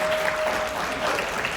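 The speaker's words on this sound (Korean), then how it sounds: "큰 박수 한번 해주시고요" A room of people gives a round of applause at a diet challenge group event, a continuous bright clatter of clapping hands at moderate level, with a faint tone running beneath it.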